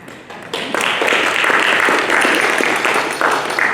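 A room full of people applauds after a speech on working for a better world and against Pentagon spending, a dense, steady clapping that swells in and then holds loud and even for several seconds.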